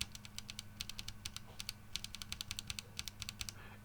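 Rapid, crisp clacking keystrokes from an Ajazz AKC087 mechanical keyboard in uneven bursts, close and fairly quiet, over a faint low hum, with no talking.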